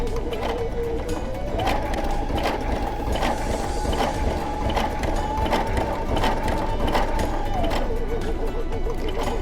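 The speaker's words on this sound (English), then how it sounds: "I'll put my foot down and let's begin stitching" A Baby Lock Sashiko sewing machine stitches fabric at stitch length 2 and spacing 2, giving a steady, continuous mechanical whir with fast rhythmic needle clatter. It runs close and fairly loud for the whole stretch, with a pitch shift near the start and end.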